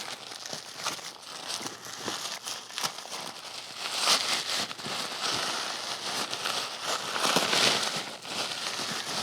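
A waterproof cover for a Peter McKinnon Nomatic camera backpack crinkles and rustles as it is handled, with uneven bursts of plastic crackle, close and fairly loud.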